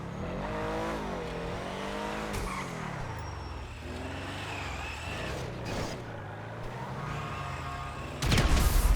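A remote-control car from GTA Online buzzes continuously, its motor whine rising and falling in pitch, then a louder, harsher burst cuts in at the very end.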